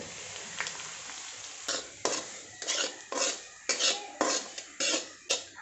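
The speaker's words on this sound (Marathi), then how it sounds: "याच्यामध्ये रवा भाजून घेऊयात अगोदर" Semolina roasting in oil in a pan, a sizzling hiss broken by repeated scraping strokes of a spoon that come in a steady rhythm, close and fairly quiet.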